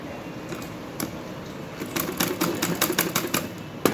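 A sewing machine stitches lace onto a lined suit, starting with faint isolated ticks and then breaking into a rapid, close, rhythmic needle clatter for the last couple of seconds.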